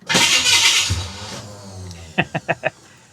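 A starter cranks a big block Chevy 427 V8 that is due for a valve adjustment. A broad whirring hiss comes first, then a low hum, then four quick, evenly spaced cranking bursts close to the mic.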